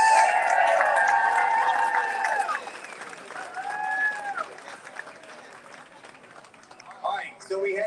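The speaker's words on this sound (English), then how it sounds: "I want to hear a huge round of applause for this group of" Crowd applause and cheering at an IBD charity Take Steps walk outdoors at Lincoln Financial Field, a loud mass of clapping mixed with raised voices that fades into lighter crowd noise and talk.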